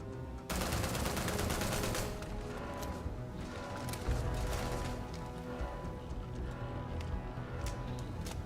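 Sustained gunfire in the space game Starfield, rapid bursts of automatic shots rattling almost nonstop for about eight seconds, loud and close, with sharp impacts and no talking.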